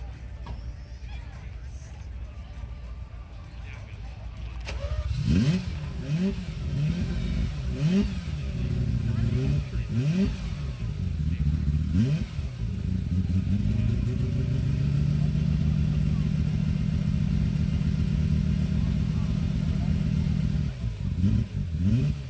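A Mercedes-Benz C111 rotary-engine concept car, one of 16 built, cold starts and revs: after quiet talk, the engine catches around five seconds in, then blips repeatedly before settling into a steady, loud idle, with voices underneath.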